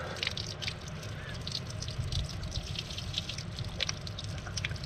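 Hot spring water at 65 degrees in Chaudes-Aigues runs and drips in a steady close trickle, with scattered drip splashes over a continuous watery wash.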